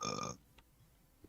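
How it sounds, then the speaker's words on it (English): A single short, casual belch at close range opens the moment, followed by near silence with only faint background clicks. "Casual belch."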